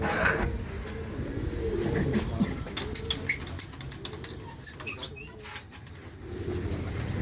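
Pigeons on a rooftop loft in Abadpur beat their wings in a quick series of close, fluttering bursts. The bursts cluster in the middle, with quieter ambient noise before and after.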